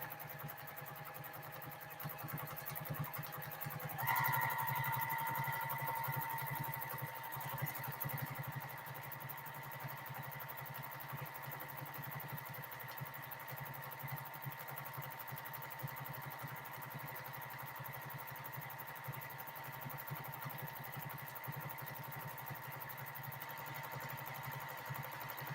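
A sewing machine stitches a quilted tote bag with a steady, continuous motor whir that holds an even hum throughout, with no talking.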